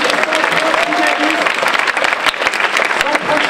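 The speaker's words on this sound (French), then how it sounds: "Donc on applaudit toutes ces compétitions." Audience applause at a French student technology competition final ceremony, with dense, steady clapping that fills the room throughout, some voices mixed in.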